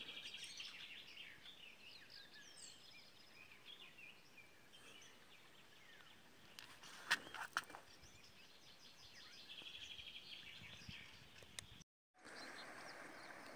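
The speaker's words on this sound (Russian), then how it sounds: "Много птиц поет." Many birds sing together along a quiet country road beside the Kava river near a village, a dense layer of chirps and trills over faint wind, with a brief dropout near the end.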